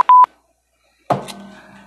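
Telephone keypad tones: two short, loud beeps in quick succession, then silence and a dull clunk that fades out.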